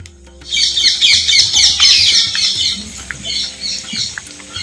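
Kurinjan spinach pakoda fry in hot oil with a loud, dense sizzle and crackle that stays steady for several seconds before easing slightly, close up with no talk.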